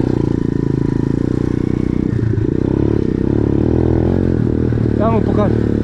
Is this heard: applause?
no